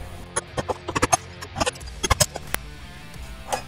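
Small steel coupons cut from stock with a 4x6 bandsaw being snapped at 90 degrees in a shop, a scattered series of sharp metallic clicks and taps, close and crisp, with quiet gaps between.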